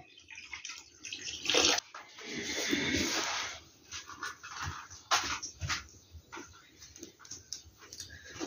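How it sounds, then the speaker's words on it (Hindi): Water splashes and pours steadily into a metal wok on a stove, with bursts of louder gushing and clatter, close by. "और कढ़ाई में डाल रहा हूं पानी।"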